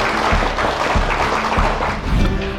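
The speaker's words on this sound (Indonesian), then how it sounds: "Tepuk tangan adik sekalian." A seated audience of young listeners at a poetry recital claps in loud sustained applause, with a few low thumps and a faint hum under the dense clapping.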